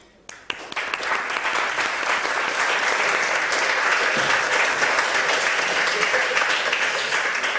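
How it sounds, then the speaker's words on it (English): Applause from the audience at a European medical awards ceremony starts abruptly after a few sharp claps and swells into loud, sustained clapping that holds steady for the rest of the stretch. "This big round of applause is for you"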